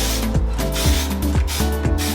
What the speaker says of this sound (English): I'm gonna spray it with volume spray from Kenra.